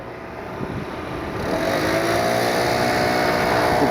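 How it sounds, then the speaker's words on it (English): Leaf blower running in the background at a Cleveland airport plane-spotting spot, a steady motor whine and broadband roar that swells slightly louder partway through, with no talking. "The guy over here blowing leaves, and that's the noise you're hearing in the background"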